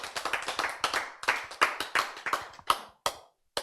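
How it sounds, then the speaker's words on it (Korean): A church congregation claps in a steady run of sharp, fairly even claps that continue for about three seconds and then taper off into a few scattered final claps. "박수!"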